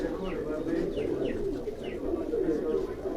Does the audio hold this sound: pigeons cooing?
yes